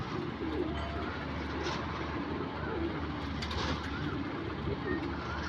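Pair of pigeons in a home loft cooing softly and repeatedly, with low murmuring calls set against steady background noise.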